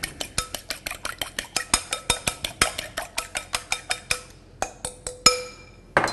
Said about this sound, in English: I've got 3 eggs. I'm going to whisk those up.